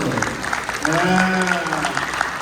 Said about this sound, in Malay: Bagi nak tepukan sikit kat mak saya